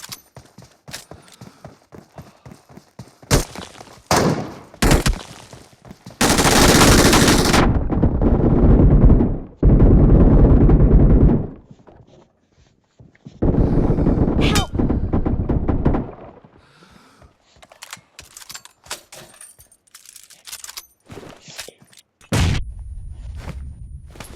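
Video game gunfire in a WOW mode match, with bursts of rapid shots, sustained automatic fire and loud booming blasts in a dense mix, broken by short pauses and clicks.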